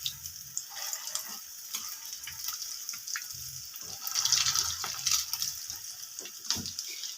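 Chinese kababs fry in oil on a pan over a medium gas flame, giving a faint, steady sizzle with scattered small crackles and pops and no voices.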